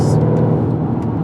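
The supercharged 6.2 litre engine of a 750 bhp Mercedes C63 gives a loud, deep, steady rumbling roar from inside the car, continuous for the whole moment.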